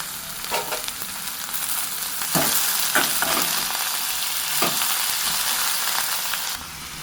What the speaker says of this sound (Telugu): ఇలా కూర మొత్తం పైనుంచి కిందకి శుభ్రంగా కలుపుకోవాలండి.